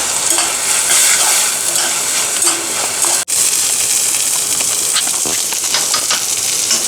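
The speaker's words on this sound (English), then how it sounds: "Fry this till the raw smell of ginger and garlic goes off." Ginger and garlic fry in a hot pan with a steady, loud sizzle, and a spoon stirs and scrapes through it now and then. The sizzle drops out for a moment partway through.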